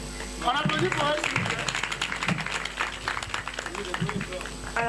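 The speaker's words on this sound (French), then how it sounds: "On applaudit pour eux" Audience clapping for contestants at a school quiz semi-final, a brisk patter of hands running under several people talking loudly nearby.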